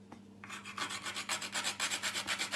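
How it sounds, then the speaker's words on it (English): A whole nutmeg is rubbed over a grater for a traditional corn meal porridge. Close, dry, rhythmic rasping strokes repeat quickly and grow steadier and louder, with no voices. "So you grate your nutmeg and then you mix everything around"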